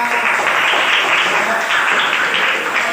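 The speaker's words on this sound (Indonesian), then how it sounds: "Kita berikan tepuk tangan kepada" A group at an Indonesian teacher workshop session claps together, producing a steady, even wash of applause that holds at a constant level for a few seconds without any voices.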